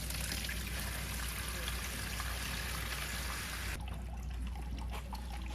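Gray water draining from a mobile wood-fired pizza oven's sink pod tank into a bucket, a steady trickling pour that runs continuously, then softens and thins partway through.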